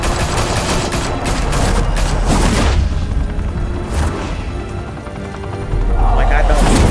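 Gunfire rattles through a scene in Batman: The Telltale Series, a loud dense barrage of shots and booms that continues throughout, with voices talking over it.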